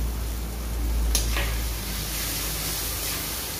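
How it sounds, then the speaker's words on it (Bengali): Garlic and onion paste with ground cumin, coriander and dried red chili paste, salt and turmeric frying in a pan for chicken kosha, giving a steady, close hiss of sizzling with a brief brighter crackle partway through. "রসুন পেঁয়াজ আর একটু ভালো করে ভেজে নেব"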